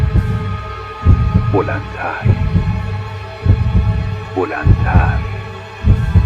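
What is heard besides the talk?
heartbeat sound effect in a horror story narration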